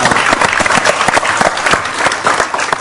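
A studio audience on a television talk show breaks into loud, dense applause, many hands clapping rapidly and evenly for the whole stretch.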